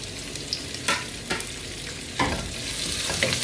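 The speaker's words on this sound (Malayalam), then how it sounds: "അരിഞ്ഞ് വെച്ചിരിക്കുന്ന സവോള ഇടാം." Chopped onions frying in a pan, with a steady close sizzle broken by a few distinct scraping strokes of a spoon as they are stirred, and no voices.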